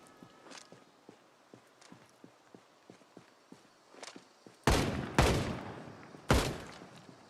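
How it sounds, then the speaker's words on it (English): Gunfire in the zombie survival video game Project Zomboid, a few sharp, loud shots near the end, after a run of soft, regular footsteps. "Thank God I didn't miss any of those shots"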